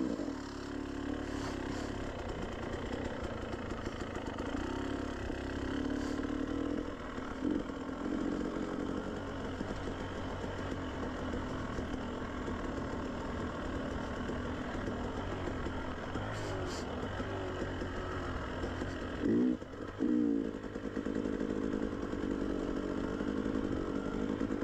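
Off-road motorcycle engine climbing a steep trail, a buzzing drone that holds steady with a few brief throttle blips, heard at moderate distance and fairly faint.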